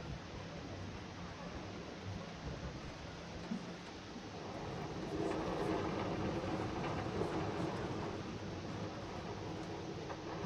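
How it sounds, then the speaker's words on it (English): Train rolling along its track in a Planet Coaster theme park, a steady rumbling wash that swells louder midway and holds under faint ambient park sound. "There's a train right there."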